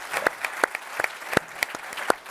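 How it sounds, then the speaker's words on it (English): Audience applause at a pediatric cardiovascular medicine tech forum: a run of distinct, sharp handclaps in an uneven rhythm, fairly close and moderately loud, with no talking over it. "I honestly think that we should applaud you"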